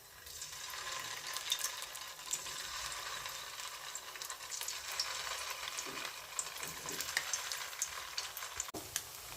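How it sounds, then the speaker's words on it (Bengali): Fish balls deep-frying in hot oil in a pot, a dense, even crackling sizzle with small pops, steady and moderately quiet. "এখন এক এক করে সবগুলো ফিশ বল আমি তেলে ছেড়ে দিচ্ছি।"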